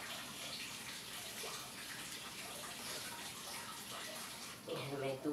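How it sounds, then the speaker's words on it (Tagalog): Tap water gushes steadily into a basin, a constant broadband rush at moderate level, with a brief clunk or shift near the end. "Pinatay ko yung gripo dahil may tubig na."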